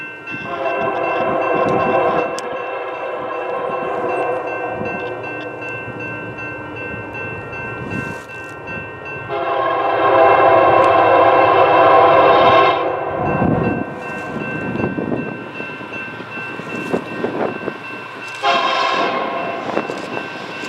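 A Union Pacific freight train passes nearby, its horn sounding in long loud blasts over the steady rumble and rolling of the cars, with no voices.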